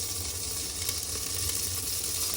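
Cumin seeds and asafoetida powder sizzle steadily in hot oil in a pot, a continuous bright crackling hiss with no pauses and no talking.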